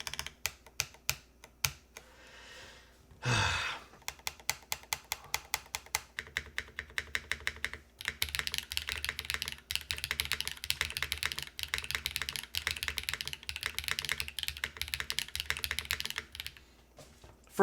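Rapid typing on a Fox65 mechanical keyboard with a slider, bursts of crisp clacking keystrokes close by, broken by a short pause and a heavier rustle, then steady continuous typing to the end.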